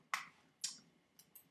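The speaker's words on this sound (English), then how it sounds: "I can use my mouse clicks as always" A computer mouse gives four sharp, isolated clicks: two louder ones about half a second apart, then two fainter, quicker ones, all close and quiet with no talking.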